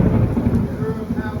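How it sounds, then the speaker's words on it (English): Low rumbling thunder rolls through a heavy rainstorm, deep and continuous beneath a dense wash of rain over the whole brief moment. "It's thundering and like it just gets heavier and heavier."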